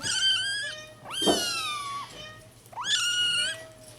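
Tiny kittens at an animal shelter meow in three drawn-out, high-pitched cries, loud and close, with a short scuffle between the first two.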